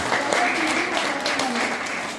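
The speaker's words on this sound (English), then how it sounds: "Just clap it." An audience claps together in a continuous, fairly loud burst of applause that lasts the whole moment, with some voices mixed in.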